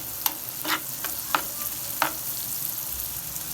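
Garlic tempering in butter for sarson ka saag sizzles softly in a pan, with faint spoon-stirring clinks and scrapes over a steady hiss.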